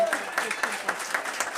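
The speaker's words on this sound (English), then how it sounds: "please join me in giving them one more round of applause" Audience applause at a school district board meeting, a steady patter of many hands clapping with soft, pulsing peaks, moderately loud and heard alone.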